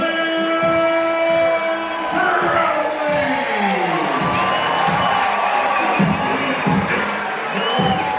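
A baseball crowd at a CBL game cheers to greet a batter stepping up, a broad sustained roar with whistles and shouts that swells midway and carries on loudly.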